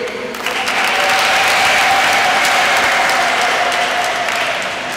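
A church congregation at a Catholic cathedral anniversary Mass breaks into loud, sustained applause, a broad roar of many hands clapping that swells quickly, holds steady and tapers slightly at the end.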